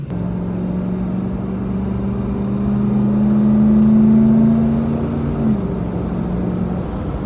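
Ford F150 fitted with a Gotts cold air intake accelerating on the road, its engine drone rising steadily in pitch and loudness, then easing off and settling back to a lower hum, heard from inside without speech.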